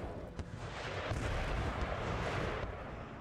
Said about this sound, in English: Ooh, an errant cannonball.